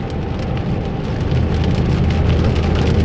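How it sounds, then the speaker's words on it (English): Steady rain pours outside on a cold New Year's Day, a dense continuous hiss of drops on surfaces with low rumbling underneath, constant and fairly loud throughout with no voices. "And it's raining like Noah about to go floating again."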